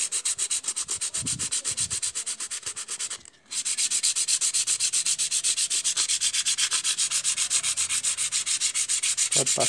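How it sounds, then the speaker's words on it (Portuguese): Steady back-and-forth strokes of 150-grit sandpaper rubbing a carved wood sculpture, close and continuous, with one brief pause partway through. "Vai pegar uma lixa 150"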